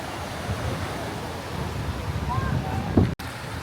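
Ocean waves break and wash along a beach at Del Carmen, Mexico, a steady broadband roar mixed with wind buffeting the microphone, a brief louder surge near the end followed by a momentary dropout.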